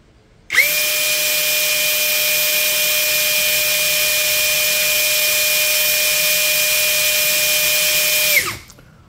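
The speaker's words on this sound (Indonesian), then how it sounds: "Kita akan uji di mode drilling, kecepatan nomor 1 terlebih dahulu." A Dongcheng cordless brushless impact drill runs in drilling mode at speed 1. It gives one loud, steady, high whine for about eight seconds, starting abruptly and winding down at the end, with no one talking.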